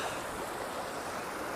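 Steady broadband rush of a moorland stream on Dartmoor flowing over rocks, continuous and close, with no voices.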